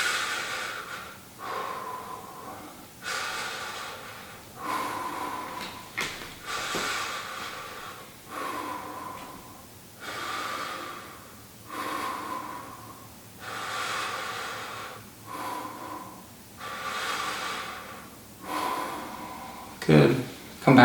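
Deep, slow breathing during a seated twisting stretch: about eight long inhales and exhales repeat steadily every couple of seconds, close and clearly audible.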